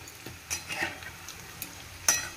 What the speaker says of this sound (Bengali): এবার শুধু এরকম করে নাড়াবো আর এক একটা দিক লাল করবো।